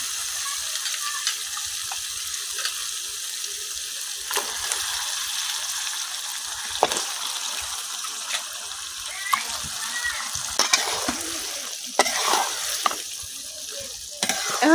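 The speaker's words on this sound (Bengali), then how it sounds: "এখন মশলাটা মাংসের সাথে খুব ভালোভাবে মিশাই নিলাম।" Beef sizzles and crackles as it is stirred into a spice paste over a new clay stove, with steady frying hiss and scraping stirs throughout, heard up close.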